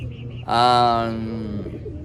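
A racing pigeon gives a long, throaty coo close by, over a low background hum and faint outdoor noise.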